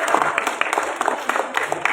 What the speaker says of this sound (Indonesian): mungkin tepuk tangannya harus lebih keras biar dia tidak terlalu nervous, yaitu dari Loviana